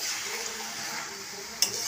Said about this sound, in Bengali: মাংসটা তুলে দিয়েছি, একটু নাড়া করে